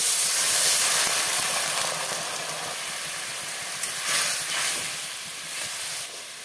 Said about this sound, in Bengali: একটু নাড়িয়ে চাড়িয়ে জল দিয়ে দেবো, দিয়ে দেবো জল